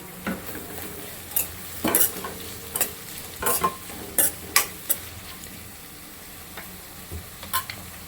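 Onions and chillies fry in a little oil for a North Karnataka mandakki mirchi dish, a low sizzle under repeated close scrapes and clinks of a spatula stirring the pan, with no talking.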